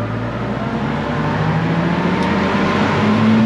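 A tractor running Samasz butterfly mowers drones loudly and steadily close by, a low engine hum building slightly in level with no voices.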